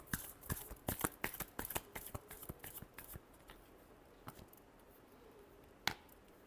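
Tarot cards are shuffled by hand in a quiet room, giving a rapid run of soft riffling clicks that thins out into a few isolated taps and one sharp snap near the end.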